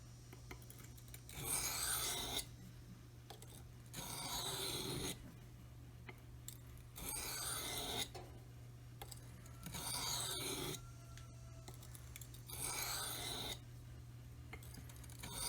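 Steel kitchen knife being refined on a sharpening stone by a stream, alternating pull and push strokes in about five separated bursts of rasping, each lasting roughly a second, over a steady low background hum.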